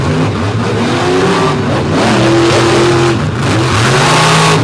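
A race truck engine revs and accelerates hard down the track at a Brooksville all-star kickoff event, loud and close with rising, shifting engine pitch throughout and no pause.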